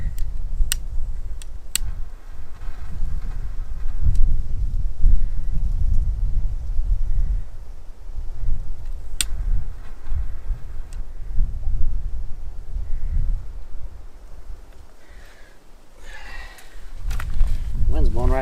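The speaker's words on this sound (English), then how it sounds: "Wind's blowing right through there." Wind gusting through a wilderness campsite in the Boundary Waters, a steady low rumble buffeting the microphone with rising and falling surges, while someone talks and scattered ticks and taps sound nearby.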